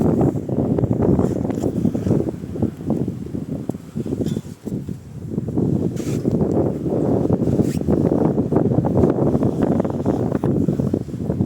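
Strong wind blowing hard at an abandoned urban exploration site, a steady loud low-frequency roar and rumble against the microphone, sustained for the whole stretch with brief dips.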